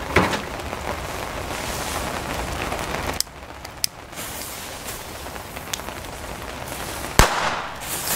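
A Silver Pirat firecracker from Fire Event detonates on New Year's Eve with sharp, loud bangs, one near three seconds and a stronger one near seven, over a constant rushing hiss of outdoor background noise.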